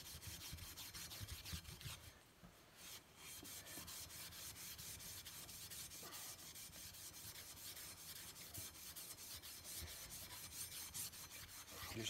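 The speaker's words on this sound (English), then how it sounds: "Just using the steel wool to get the surface rust off." Steel wool rubbing surface rust off a Lyman Great Plains muzzleloading rifle, a steady, soft, rasping scrub repeated back and forth at close range, with no talking.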